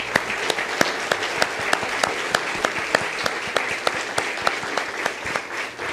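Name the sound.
congregation applauding in church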